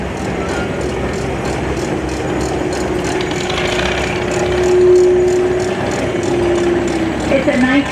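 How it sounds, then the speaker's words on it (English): A 1915 Eclipse Frick steam engine, 7.5 by 9, 12 to 36 horsepower, runs past in an antique tractor parade with a steady mechanical chuffing and clanking rhythm and a sustained whistle-like tone, loud and close. "Here we have an Eclipse Frick steam engine."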